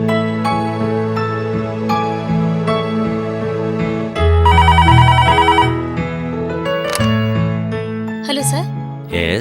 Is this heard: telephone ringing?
yes